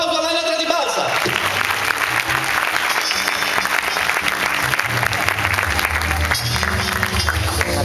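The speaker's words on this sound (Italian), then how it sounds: "Un applauso all'anatra di Balsa." A live 2009 crowd in Cagliari breaks into loud, sustained applause with cheering, mixed with voices and music throughout.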